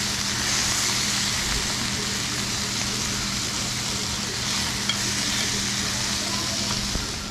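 Beef with cheese over onions cooks on a hot plate, giving a constant dense sizzle that stays loud and unbroken throughout, with faint background murmur.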